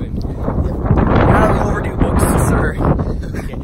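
Wind blasts across the microphone outdoors in a backyard, a loud continuous rumbling buffet that swells and eases without a break, close and dominant throughout.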